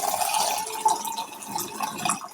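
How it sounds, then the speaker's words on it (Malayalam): Water runs steadily into a lemon juice mixture, a continuous close splashing fill lasting about two seconds. "ഇനി നമുക്ക് ഇതിലേക്ക് വെള്ളം ഒഴിച്ചു കൊടുക്കണം"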